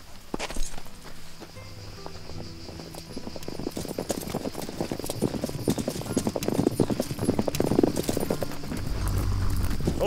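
Several horses' hooves clip-clop steadily in a western setting, a dense, close run of hoofbeats that builds in loudness across the whole stretch.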